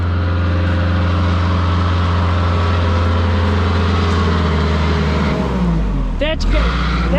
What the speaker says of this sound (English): Have him rev it up again. You'll hear a little squealing. Could be the belt.